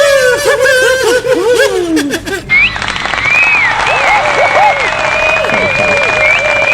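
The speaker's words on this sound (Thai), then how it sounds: "เสียงกรี๊ดและปรบมือกัน เกลียวกราวแบบนี้" A crowd shrieks with high excited screams, then loud applause and cheering follows, with whistles ringing over the clapping.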